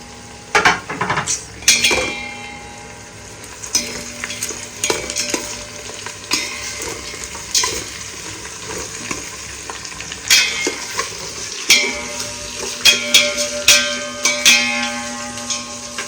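Onion, cumin, mustard seeds, chana dal and curry leaves fry in hot oil as a tempering, a steady sizzle broken by repeated scraping and clinks of a spoon stirring against the pan.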